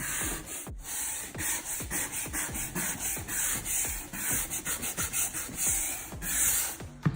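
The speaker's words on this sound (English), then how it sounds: "And I scrub it a few times to make sure it gets into every little piece." Repeated rhythmic scrubbing of tile grout with a brush while applying a color sealer, a steady close-up rubbing rasp in strokes of about a second, with no talking.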